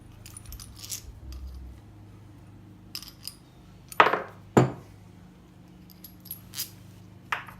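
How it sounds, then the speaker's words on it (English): Metal washers are pulled from a blacksmithing bending jig, sounding as several sharp metallic clinks and jangles, two louder ones close together midway and lighter taps scattered around them, close up with no talk. "Take some of the washers out."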